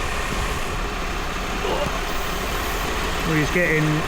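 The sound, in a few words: 1995 Mercedes SL280 engine running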